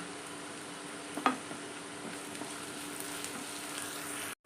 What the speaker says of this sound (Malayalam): പച്ചമുളക് ചേർത്ത് കൊടുക്കാം നമ്മളൊരു അഞ്ച് പച്ചമുളക് എടുത്തിട്ടുണ്ട് കറിവേപ്പില ചേർത്ത് കൊടുക്കാം